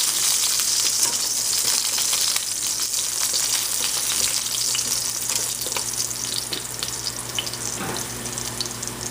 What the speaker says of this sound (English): just want to make sure that we don't burn any of the garlic